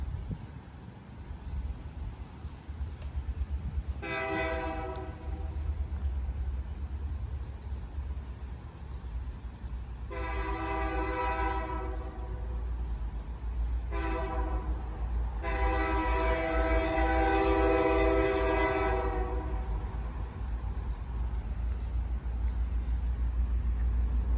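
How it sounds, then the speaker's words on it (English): A BNSF freight train led by locomotives 2836 and 2623 rumbles steadily past a level crossing in Robbinsdale, Minnesota, moving slower than usual, while its horn sounds in several long blasts, the last one longest and loudest. "Train's going a little slower than usual. But this is going to be a loud one."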